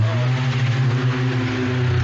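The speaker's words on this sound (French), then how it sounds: "Désolée pour la moto." A motorcycle engine drones loudly and steadily nearby, a continuous low rumble with a slight rise in pitch as it passes, with no voices over it.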